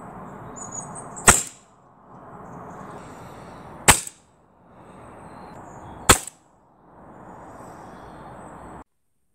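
An Edgun Leshiy 2 air rifle fires three shots a few seconds apart, first with its original moderator, then short and long Huma Air MOD50 moderators, each a sharp close crack followed by quiet ambient hiss.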